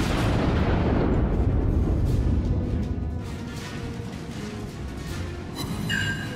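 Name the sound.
battleship New York main guns firing salvos in World of Warships video game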